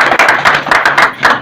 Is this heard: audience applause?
yes